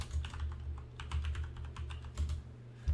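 Quick bursts of keystrokes on a computer keyboard, close and crisp, clattering in short uneven clusters with brief pauses and a heavier final tap, no voices.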